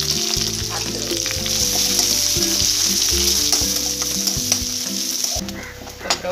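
Loud, steady sizzling of finely chopped onions and curry leaves frying in hot oil, with occasional stirring scrapes and no voices.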